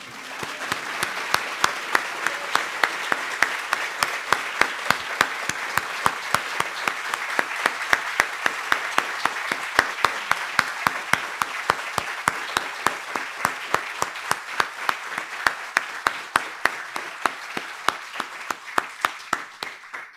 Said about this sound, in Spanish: yo le quería pedir a todo el mundo si le podemos brindar un aplauso, por favor